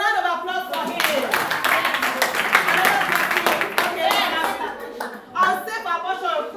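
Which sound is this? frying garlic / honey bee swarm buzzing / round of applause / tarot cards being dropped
round of applause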